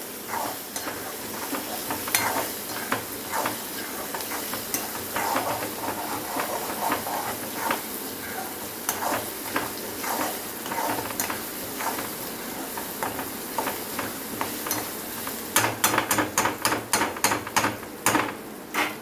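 Onions frying in a pan give a steady crackling sizzle with frequent scraping stirs, and a run of sharper clatters near the end; no one talks.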